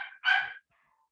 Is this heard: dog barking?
yes